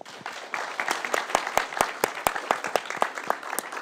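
Audience applause after a talk at a French press event, a steady patter of many hands with sharper individual claps standing out, moderately loud and continuous throughout with no speech over it.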